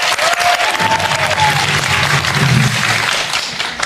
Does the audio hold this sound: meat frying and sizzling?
no